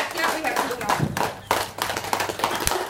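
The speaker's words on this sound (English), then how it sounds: "Clapping in a rhythm." Hands clapping in a rhythm during a stress-relief session, a series of sharp close claps at a fairly even pace with a voice speaking alongside them.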